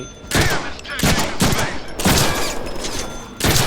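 Gunfire in the Deadpool video game comes in four or five rapid bursts of loud, close shots separated by short pauses, with voices faintly underneath.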